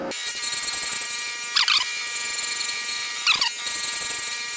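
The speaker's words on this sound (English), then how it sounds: "let's start grinding" Grinder running steadily on the return pins of an injection mold ejector plate, a constant high whine with two short bright screeching bursts where the wheel bites the metal.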